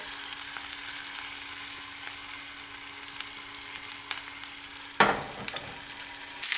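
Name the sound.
lamb riblets searing in a pan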